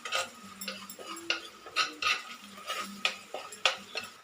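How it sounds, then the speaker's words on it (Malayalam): Spoon scraping and clinking against a pan while turmeric is stirred into onions for a curry, a close, irregular series of sharp scrapes and taps. "നന്നായിട്ട് ഇളക്കാം."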